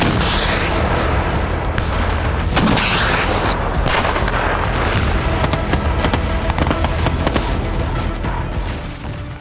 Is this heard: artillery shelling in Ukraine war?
yes